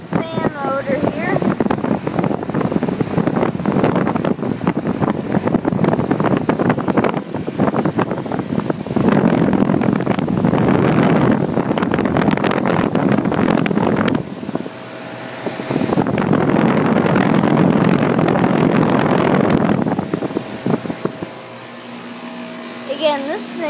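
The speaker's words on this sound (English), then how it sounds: "Got an A.O. Smith fan motor here." A 2007 Guardian central air conditioner, original to the house, runs outdoors with an A.O. Smith fan motor, a loud broadband whoosh and hum that cuts out briefly twice before resuming.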